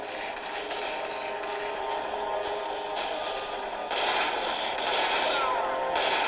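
Dense, continuous gunfire rattles through a battle in the Frontline Commando D-Day mobile game, heard as a loud, busy stream of rapid shots that swells louder partway through.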